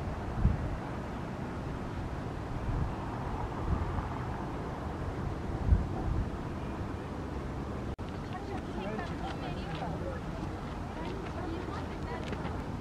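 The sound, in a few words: strong wind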